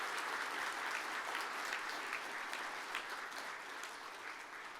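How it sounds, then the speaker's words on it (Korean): Sustained applause fills a hall at the Samsung Ho-Am Prize award ceremony, an even, steady wash of many hands clapping at a moderate distance, easing slightly toward the end. "여러분 계속해서 큰 박수로 축하해 주시기 바랍니다"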